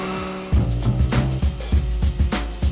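A front-wheel-drive race car in a SEGA racing game scraping and banging along the walls while cornering: repeated loud metallic thuds and grinding hits over a continuous engine drone.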